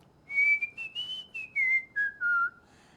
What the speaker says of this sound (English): You whistle a song.